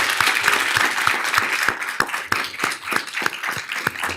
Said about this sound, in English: I think you give her a huge round of applause,